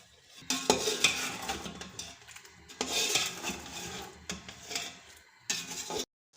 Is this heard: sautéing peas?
yes